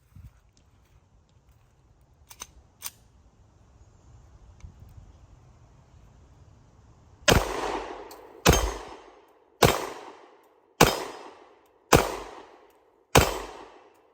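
Six sharp pistol shots from an HK VP9 crack out at a slow, even pace, each with a short decaying echo, loud and alone after a few seconds of quiet outdoor ambience and faint clicks.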